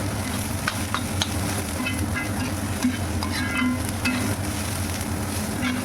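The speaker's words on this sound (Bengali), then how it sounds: "ভালোভাবে নেড়ে চেড়ে সবজি ভেজে নেওয়ার এই পর্যায়ে" Vegetables being stir-fried with salt in a karahi (wok-style pan) for pasta, a continuous sizzle with intermittent scraping and stirring clatter, close and alone without speech.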